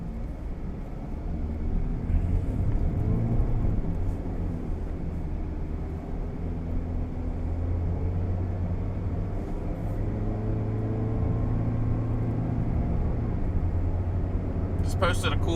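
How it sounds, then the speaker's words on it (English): Steady road traffic from inside a moving vehicle during a storm, a continuous low rumble of engines and tires with a few vehicles passing, and a faint voice underneath. "A lot of traffic today."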